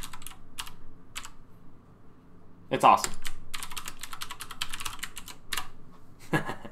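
Quick bursts of typing on a mechanical keyboard, clustered clacks coming in short runs with brief pauses, close and clear, while someone speaks briefly over them.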